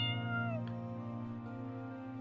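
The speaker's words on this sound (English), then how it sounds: "Aw, thank you for waking me up, kitty." A cat meows once in the RPG Maker game Irrational, a short falling mew heard over a steady, low background hum, with no talking.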